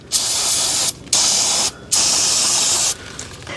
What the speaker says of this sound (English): just a light, quick spray will knock some of that dust off there